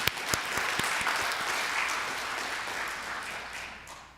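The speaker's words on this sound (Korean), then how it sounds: "우리 한번 격려하면서 감사히 한번 박수 한번 할까요?" A church congregation at a Sunday worship service claps together in a warm, sustained round of applause, starting with a few sharp early claps and gradually thinning toward the end.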